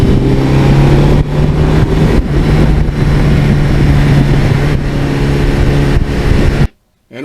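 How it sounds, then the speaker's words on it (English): A one-owner 1982 Suzuki GS1100E superbike's engine runs loud and close with a steady low rumble and a few brief revs, then cuts off abruptly near the end. "Oh, I love the sound of this bike."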